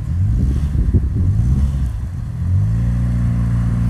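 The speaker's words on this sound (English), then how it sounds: "Driving up hills in Canada." Car climbing a hill in Canada, its engine droning loud and close under heavy wind buffeting on the microphone, revs rising steadily toward the end.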